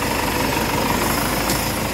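A steady, rumbling diesel engine of a 1985 HMT 5911 58 HP tractor idles close by, its low drone constant and unbroken throughout.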